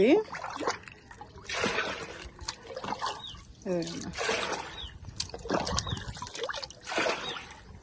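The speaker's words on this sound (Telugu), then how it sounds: "ఈ నీళ్ళల్లో కొంచెం మళ్ళీ నీళ్ళుగా పోస్తా" Water poured into a potted jasmine plant in a small home garden, a steady trickling splash that comes and goes beneath ongoing talk.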